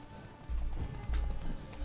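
Horse hooves gallop in The Witcher 3 video game, a steady run of heavy thudding hoofbeats over game ambience, loud and continuous.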